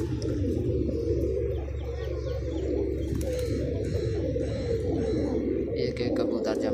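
Pigeons of many colours coo in a low, continuous murmur close by, with a voice talking over them and occasional higher chirps from other birds.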